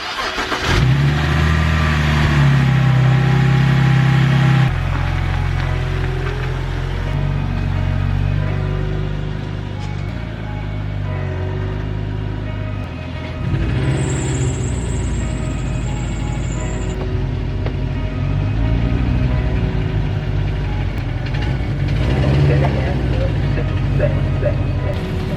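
A faulty Subaru WRX engine runs steadily and loudly close by, a continuous mid-pitched drone with slight rises and dips throughout.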